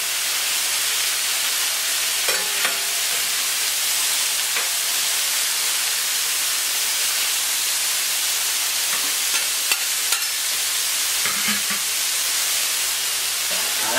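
Chanterelle mushrooms, potatoes and other vegetables cook on a moderately hot plancha, giving a steady, broad hissing sizzle throughout with occasional faint scrapes, close and continuous.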